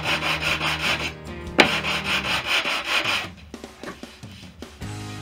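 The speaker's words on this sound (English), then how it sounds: "I'll sand this lot off" Wood gussets on the tail of a Fisher Youngster V kit plane are sanded by hand, a close, steady rasping rub in repeated strokes that thins out into a few scattered scuffs near the end.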